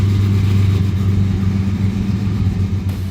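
Steady, loud low rumble of a 1958 Plymouth engine idling close by, its unfinished exhaust making it louder than normal, with no voices over it.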